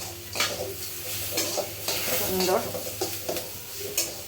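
Potatoes for chire polao frying and being stirred in a pan, a steady sizzle with scraping strokes of a spoon; a voice briefly speaks over it.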